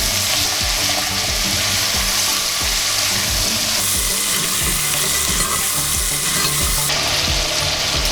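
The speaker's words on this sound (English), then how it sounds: "we're gonna deglaze the pan" Liquid poured into a hot pot roast pan to deglaze it, a loud, dense, continuous sizzle close by, with rhythmic scraping strokes of a utensil across the pan bottom.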